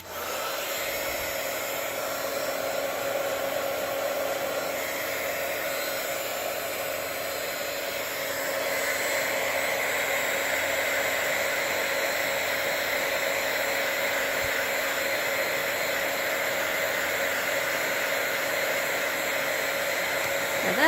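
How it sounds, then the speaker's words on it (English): A craft heat tool blows steadily over a glittery Christmas card, a continuous loud airy roar with a faint mechanical whine that holds for about twenty seconds and grows slightly stronger halfway through, with no talking. "And one more time with the heat tool."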